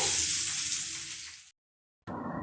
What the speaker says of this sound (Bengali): তো মাছগুলো এই যে কষাচ্ছি।